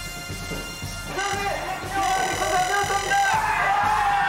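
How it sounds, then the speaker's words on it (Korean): Workers at the Hideko coal mine in the Pasir jungle break into cheering. A crowd shouts and whoops, swelling louder partway through, with voices calling out over the noise. "마침내 히데코 탄광에서 환호성이 터져나왔다"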